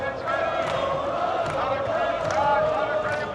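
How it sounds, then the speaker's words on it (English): Belgium fans yelling and cheering outdoors in Vancouver before a World Cup match against New Zealand: a dense, loud wall of crowd voices and shouts that holds steady throughout. "There's a big, loud, audible yelling, cheering on over here."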